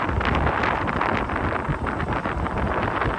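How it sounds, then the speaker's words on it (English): Constant wind buffeting the microphone while riding an e-bike through open countryside on a hot day, a loud continuous roaring rush with no other sounds. "Constant wind."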